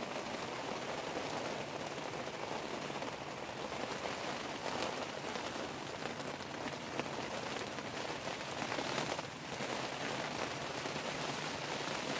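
Heavy rain from Storm Kathleen pours down at Manchester Airport, a dense, loud, continuous hiss of drops striking surfaces, steady throughout with slight swells in intensity.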